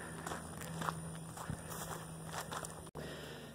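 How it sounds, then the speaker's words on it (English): Steady footsteps walk along an outdoor path at the entrance to a gated residential community, the regular steps sounding quiet over a constant hum and faint background noise, with a brief dropout near the end. "Just the sound of my own footsteps"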